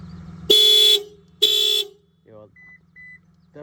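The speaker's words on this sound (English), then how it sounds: "when he put the clamper on the other side of the battery, the alarm went off" A rental car's alarm sounds after a battery clamp is attached, blaring two loud, steady horn blasts close by, then short beeps and a high chirping tone over a low electrical hum.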